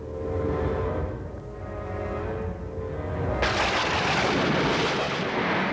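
A gunpowder store blowing up: a sustained, heavy rumbling roar that swells, then a sudden broadband crash of debris and rushing noise taking over from about three and a half seconds, loud and continuous to the end.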